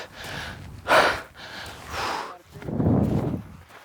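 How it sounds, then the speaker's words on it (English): A man breathes heavily after climbing a chat pile of mining waste, with a series of loud, close, ragged breaths, gasping inhales and a long exhale, with no talking. "I'm breathing heavy."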